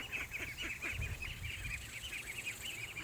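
Backyard ducks honk and quack in repeated, fairly faint calls over soft outdoor background noise, with no talking.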